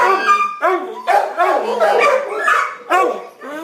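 Shelter dogs barking in dog runs: several loud, close barks and yips in quick bursts, with whimpering and howl-like tones between them, echoing as a near-continuous chorus.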